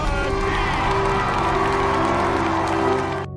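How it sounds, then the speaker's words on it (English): An audience claps and cheers loudly and continuously, a dense crowd roar with whoops and applause that holds for a few seconds before cutting off abruptly. "the audience applauded"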